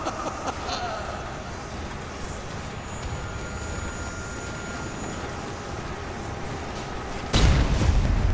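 A war-machine combat video game keeps a low rumbling background, then a sudden loud explosion bursts near the end and lingers in a heavy roar.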